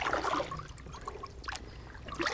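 Rapids on a cold, mountain-fed fork of Lake James, a steady rushing water wash running under bursts of nearby noise, with a louder splashing swell at the start and end.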